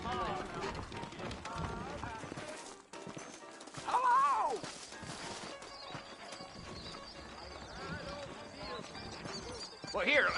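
Saddled horses in the Red Dead Redemption video game, hooves clip-clopping along with an occasional snort or whinny, mixed under game music and characters talking throughout.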